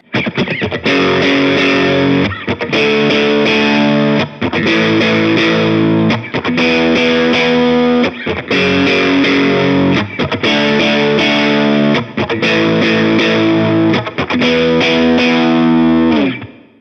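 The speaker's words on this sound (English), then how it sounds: "The first part is using dry power chords that sound like this." Dry electric guitar power chords strummed in steady, repeated bursts with brief gaps between phrases, loud and close with a slight crunch, no voices.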